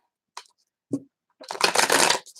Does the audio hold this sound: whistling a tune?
no